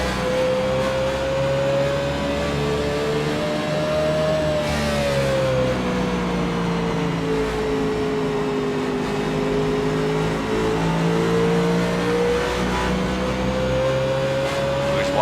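A race car engine in a racing video game during a lap at Phoenix, heard from the in-car view: a loud continuous whine that rises and falls slightly through the corners, with no talking.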